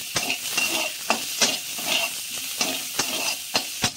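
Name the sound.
onion frying and sizzling in pan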